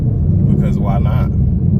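A straight-piped Camaro 2SS V8 rumbling loud and deep during manual downshifts, a brief throaty growl under a voice.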